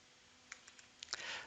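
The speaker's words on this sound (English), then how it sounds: "Oops, my typing." Keys tapped on a computer keyboard during network setup, a few faint separate clicks followed by a quick cluster of keystrokes, quiet and close, with no voices.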